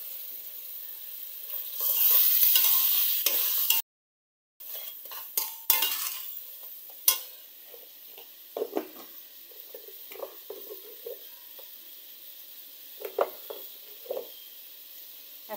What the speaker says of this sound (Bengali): মরিচটাকে ভালো মতো কষাবো